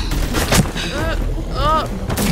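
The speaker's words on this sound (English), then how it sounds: "Is that a fucking sniper?" Sniper rifle shots in The Walking Dead: Michonne game. Two sharp, booming cracks stand apart in the clip, while a voice talks loudly in between.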